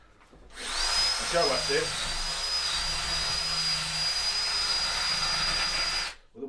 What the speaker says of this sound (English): wire brush on a drill. It just takes the paint straight off